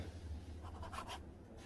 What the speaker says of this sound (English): First, you must write your signature on a white paper.